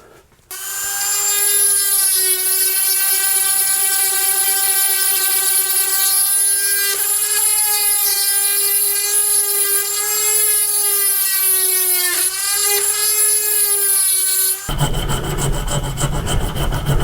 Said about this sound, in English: So now I've just got to connect the holes with my Dremel.